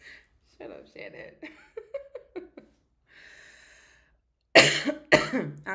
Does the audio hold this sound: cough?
yes